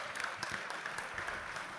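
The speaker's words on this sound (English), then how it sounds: "Yes, round of applause." Audience applause at an ALCCI event in Australia, a steady wash of many clapping hands at moderate distance, fairly faint and even throughout with no voices over it.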